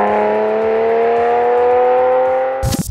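A 1988 Ferrari Testarossa's flat-12 engine holds a loud, steady high rev with a strong harmonic whine, then cuts off into a burst of rushing, popping exhaust noise at the very end.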